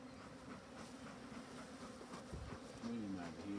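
Honeybees swarm and buzz around a horizontal hive, a dense continuous drone close by with voices talking faintly underneath.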